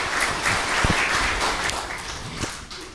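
Audience applause greets team officials being introduced at a 2015-2016 women's volleyball rookie draft ceremony, a steady wash of clapping sustained across the whole stretch in a hall, no talk over it.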